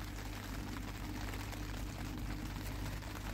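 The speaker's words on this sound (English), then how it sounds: "As you can hear, it's raining here." Steady rain falling outside a polytunnel, a dense, even hiss that holds at the same level throughout, with no voices over it.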